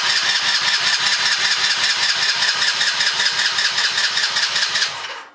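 A cheap secondhand quad bike engine turns over and catches, running loud and close with a fast, steady pulsing beat for about five seconds before cutting off abruptly.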